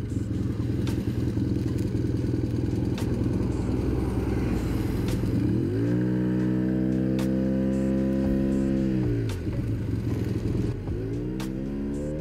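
A Yamaha TMAX scooter's engine and exhaust idling with a rough throb, then revving up and holding a steady high drone before dropping and rising again, close and loud throughout.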